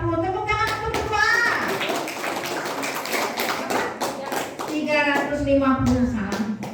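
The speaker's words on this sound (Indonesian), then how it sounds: "Tepuk tangan untuk berdua." Children clapping for two contestants at a school quiz competition during a Ramadan program, brisk rhythmic claps mixed with excited children's voices and chatter.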